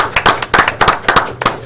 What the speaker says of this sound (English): Let's give Ms. Kelly a round of applause.